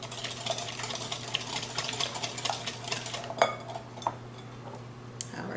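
Eggs beaten with a quarter teaspoon of salt for a brown sugar pie: a steady run of quick clinking and scraping of a whisk or fork against a bowl, close by and fairly quiet, with a hum in the background.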